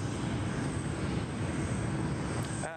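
Qantas jet pushing back from its bay at Sydney Airport, a steady loud roar of aircraft engines at close range that holds evenly throughout and drops away abruptly at the very end.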